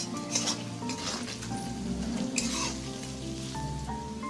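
Mixed vegetables fry in a pan with turmeric and raisins for a lentil dish, giving a continuous soft sizzle with occasional stirring scrapes, fairly quiet and close, with no talking.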